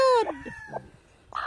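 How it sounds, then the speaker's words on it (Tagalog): Domestic chickens on a Philippine backyard farm, a hen giving a few short, close clucks and squawks in quick bursts, with brief quiet gaps between calls. "Yan yung manok natin,"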